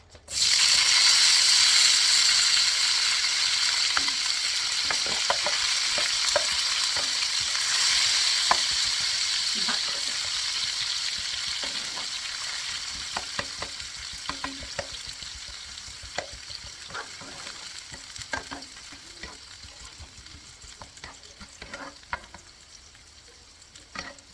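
Onion fries in a pan with a close, steady sizzle that slowly softens over about twenty seconds, punctuated by frequent clicks and scrapes of stirring.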